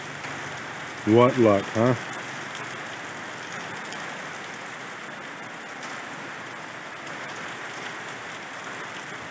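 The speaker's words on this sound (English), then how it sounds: "they got in a half a day and then it started to rain" Steady rain falls on an outdoor work site where a crew's half day was cut short, a constant broadband hiss running through the whole stretch while someone speaks briefly near the start.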